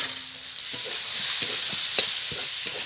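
Fried potatoes go into a frying masala for ghugni: a steady sizzle carries a few sharp spoon scrapes and taps as they are stirred in over a short stretch.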